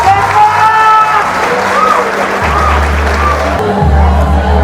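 Loud sustained applause and cheering from the audience at a school writing and eloquence contest final, a dense wash of clapping lasting throughout, with a low hum beneath.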